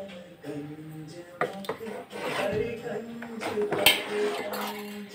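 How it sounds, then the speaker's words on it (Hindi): Rice batter seasoned with ajwain, cumin and salt stirred in a pot over a low flame, a spoon clinking and scraping against the metal in irregular strokes beneath steady talk. "इस तरह इसे लो फ्लेम पर हम चलाते रहेंगे"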